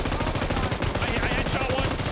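Rapid gunfire from an automatic UMP in the PUBG battle royale game runs steadily and loud throughout, sharp repeated bursts filling the whole stretch, with a faint voice underneath.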